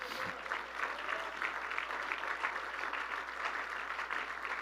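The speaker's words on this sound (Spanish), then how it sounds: "Dele un aplauso al Señor, hermano." A church congregation applauds during a sermon, steady dense clapping heard from a distance, fairly faint and continuous without a break.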